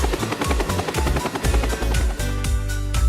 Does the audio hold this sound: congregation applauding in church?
no